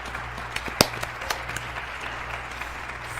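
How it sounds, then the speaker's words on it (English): Audience applause at the Western New York Chamber Orchestra gala after a Vivaldi bassoon concerto, a brief burst of clapping with one sharp loud clap, fading into scattered hand claps in a concert hall. "Nice applause."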